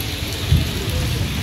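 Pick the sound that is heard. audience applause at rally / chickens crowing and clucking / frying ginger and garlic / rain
rain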